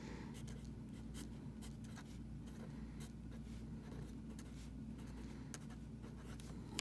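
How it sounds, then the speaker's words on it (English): Paper scrapes and shifts on a desk during handwriting, a faint string of soft scratchy rustles over a quiet background hum. "I'm going to rotate my paper just a minute."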